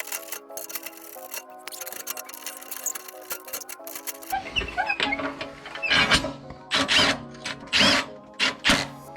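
A power tool snugs bolts on an Audi Q5 subframe brace: a sustained whirring, then several short loud bursts with gaps, close up in a garage, no speech.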